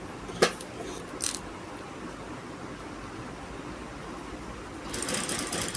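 A sewing machine stitches the neckline of a kameez or kurti, with a few clicks of handling followed by a close, steady motor hum that starts up near the end.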